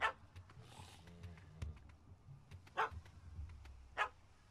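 Short, sharp yaps from a puppy in Witcher 3: Hearts of Stone, three distinct bursts at the start, middle and end over a low game ambience with some softer rustling in between.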